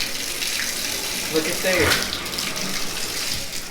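Water runs steadily from a tap in a barndominium under construction, a broad continuous hiss under a man's brief speech.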